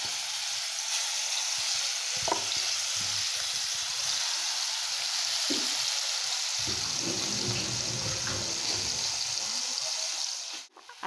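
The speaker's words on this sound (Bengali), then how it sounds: "তেলটা গরম হয়ে গেছে, বেগুনটা দিয়ে দিন।" Eggplant fries in hot oil with a loud, continuous close sizzle that holds steady throughout, with faint clatter now and then and a brief bump near the end.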